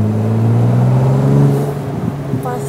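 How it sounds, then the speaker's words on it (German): Ferrari engine pulling hard under acceleration, heard from inside the car on a drive near Düsseldorf, a loud steady low drone that holds strong before easing slightly, with faint voices underneath. "Merkt man das direkt, wenn man jetzt durchdrückt? Geht er dann voll ab, oder? Das Auto geht ab"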